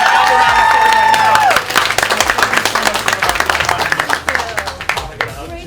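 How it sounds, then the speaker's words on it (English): A crowd at a listening party applauds and cheers loudly, with sung or sustained vocal tones overhead at first, then the clapping continues as a dense patter that gradually thins out. "Round of applause"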